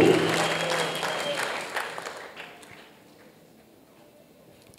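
A church congregation acclaims the Lord with a burst of clapping that is loud at first, thins and fades over about three seconds, then leaves near silence.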